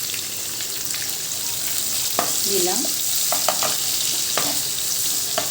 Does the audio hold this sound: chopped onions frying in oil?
yes